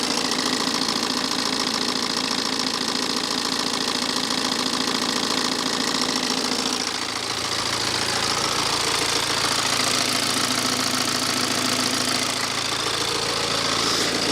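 A BMW diesel engine idles steadily with a loud timing chain, giving a constant, close mechanical clatter and hum. The tone shifts slightly midway but stays even and unbroken, with no talk over it.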